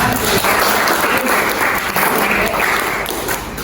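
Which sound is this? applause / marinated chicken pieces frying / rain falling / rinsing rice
applause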